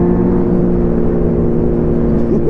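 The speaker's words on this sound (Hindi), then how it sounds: "डोमिनार है भाई ये, डोमिनार देख रहे हो आवाज कैसी कर रही है।" The exhaust of a Bajaj Dominar motorcycle gives a loud, steady droning engine note close by, holding even for the whole stretch with no talk.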